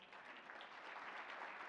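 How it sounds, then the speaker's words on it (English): Audience applause at a plenary session on immigration, honoring a person named Dell; a steady, dense wash of clapping from a large crowd, sustained evenly at moderate distance with no voices on top. "Please give Dell a round of applause, everyone."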